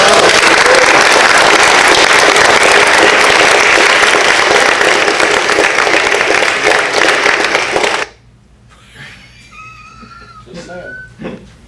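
Wedding guests applaud the newly married couple, a loud, dense wash of clapping filling the room for about eight seconds before breaking off into quiet, scattered voices and murmurs.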